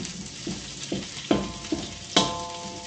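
Garlic and rice fry in a pan for fried rice, a steady sizzle broken by a few scraping stirs of the spatula, close and moderately loud, with no voices.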